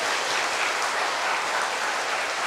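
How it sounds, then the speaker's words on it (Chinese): Warm, sustained applause fills a hall at a Buddhist dharma lecture honoring temple volunteers, a steady dense wash of many hands clapping at moderate distance with no talking over it. "我们应该给他热烈的掌声吧"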